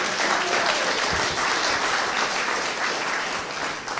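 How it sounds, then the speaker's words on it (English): An audience at a local planning talk breaks into a sustained round of applause, dense and even clapping filling the room with no voices over it. "everybody's going to give you a big round of applause"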